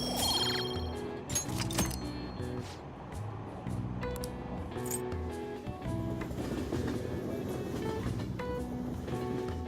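Subway carriage ride in the game Persona 5, with rhythmic clickety-clack of wheels over rail joints, metallic tonal squeals and a continuous low rumble, fairly close and loud, with no talk.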